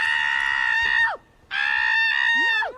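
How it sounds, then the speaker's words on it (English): A woman lets out two long, loud, high-pitched screams from a played clip. Each one trails off at the end, with a short silence between them. "That scream will haunt my dreams."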